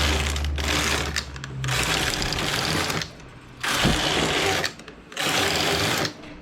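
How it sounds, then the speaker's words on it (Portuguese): A domestic knitting machine fitted with a ribber knits rows at tension setting 5. The carriage makes loud, rattling mechanical sweeps in four separate bursts, with short quiet pauses between the passes. "Faço 4 carreiras na regulagem 5, tanto máquina quanto frontura."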